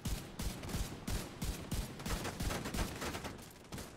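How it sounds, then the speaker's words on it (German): Rapid bursts of gunfire from The Division 2 during a Tidal Basin legendary mission, sharp repeated shots in an uneven rhythm, loud and continuous across the whole stretch with no talking. "Ich schieß weiter."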